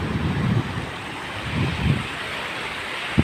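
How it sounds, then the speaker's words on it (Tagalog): Large dark ocean waves roll and break at a beach in Panabe where people surf and swim, with steady surf wash, a couple of swelling crashes and wind buffeting the microphone, and no talking. "ang lalaki ng mga alon"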